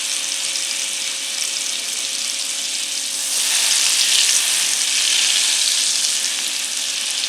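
Butter melting in olive oil in a pan gives a continuous, close hiss that swells louder and brighter about halfway through, with no voices.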